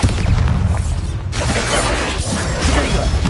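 A Bombarda blasting spell goes off in Hogwarts Legacy, a loud, dense explosion with crashing, crumbling debris that rumbles steadily throughout, with no voices.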